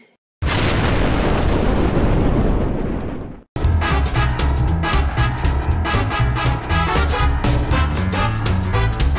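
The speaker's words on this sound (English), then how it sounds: "Oh no! It's going to explode!" A cartoon volcano erupts with one loud, sustained blast of roaring noise that stops abruptly and then gives way to bright, bouncy music.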